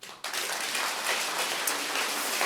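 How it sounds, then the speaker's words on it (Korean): An audience at a political talk show in Seoul breaks into sustained applause, a dense even wash of clapping that starts abruptly and carries on steadily. "그 10명 중에 3명한테 우리가 박수 한번 줍시다."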